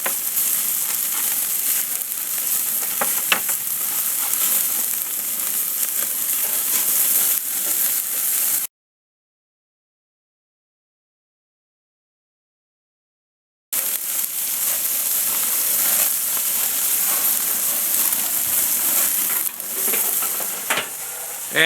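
Homemade hamburger patties sizzle steadily on a grill, a dense continuous crackle that breaks off into silence midway, then resumes with scraping and clicks of utensils as the patties are flipped.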